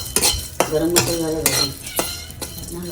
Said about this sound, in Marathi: आग चांगली पेटली त्यामुळे ओलं खोबरं भाजायला आता वेळ नाही लागणार